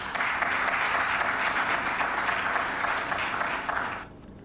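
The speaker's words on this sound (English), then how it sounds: "did you see the small applause?" Modest applause from an audience of world leaders, a steady patter of many hands clapping for about four seconds before cutting off abruptly into quiet room tone.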